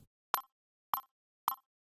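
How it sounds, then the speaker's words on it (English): A synthesized digital UI approval sound built from C notes on an oscillator plays as three identical short, bright plucked tones, evenly spaced about 0.6 s apart over silence. "We have a nice approval sound."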